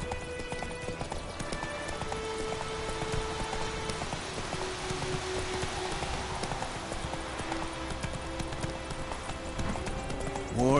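Horse hooves from The Witcher 3 video game clip-clop in a steady galloping rhythm that runs throughout, close and continuous, with a brief whinny and game ambience underneath and no talk.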